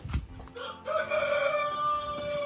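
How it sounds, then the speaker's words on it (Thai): Three-month-old Phu Phan black chicks, a breed with black feathers, skin and bones, raised on a farm, with a rooster crowing close by and clucking calls around it, steady and fairly loud without talk. "อันนี้คือ ไก่ดำภูพานอายุประมาณ 3 เดือนครับ"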